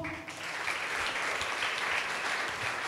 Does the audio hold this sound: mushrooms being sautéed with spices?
no